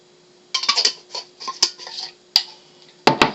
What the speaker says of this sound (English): Once again, if I can open the jar